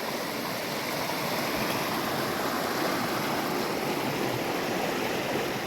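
Overflowing stream carrying muddy, silt-laden water, a steady broadband rushing roar that holds constant and fairly close throughout, with no voices.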